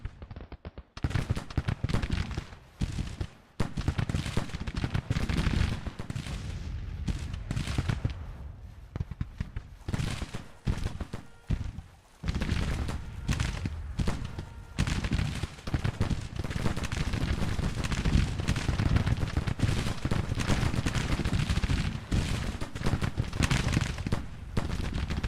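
Volleys of musket and cannon fire from troops in a Civil War battle in the strategy game Grand Tactician, dense crackling gunfire rolling on almost continuously for the whole stretch, loud and close with only brief lulls.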